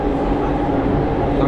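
An express train passes through Surat railway station in India with a steady, loud rumble. The sound holds constant throughout, and there may be faint voices in the background.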